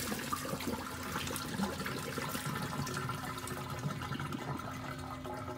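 Water runs and splashes while sushi rice is rinsed in a colander, a steady, close hiss of flowing liquid with faint clinks and sloshes throughout.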